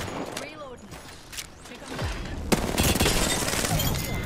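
Sniper rifle in Apex Legends, heard as a sharp loud crack followed by a sustained noisy burst of gunfire and impact, with game effects and some talk before it.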